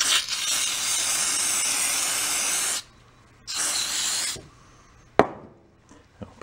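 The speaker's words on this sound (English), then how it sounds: "electronics cleaner." Aerosol electronics cleaner sprayed onto a snow blower's electric starter part, two long steady hissing bursts close up, then a sharp clunk and some faint handling noises.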